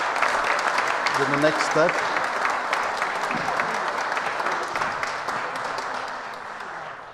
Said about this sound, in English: Please give an applause to the panel